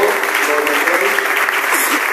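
Applause from a church congregation in Angola fills the space steadily, a dense wash of many hands clapping close and loud with a faint voice or murmur underneath.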